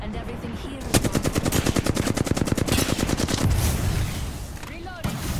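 Close, loud automatic gunfire from Apex Legends rattles out as a long, rapid burst of evenly spaced shots, followed by a few scattered single cracks.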